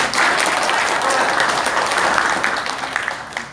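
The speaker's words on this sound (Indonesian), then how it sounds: "Jadi tepuk tangan untuk siapa ini?" Loud, sustained applause from a theatre audience after a performance, dense clapping that fills the whole clip before tapering slightly at the end.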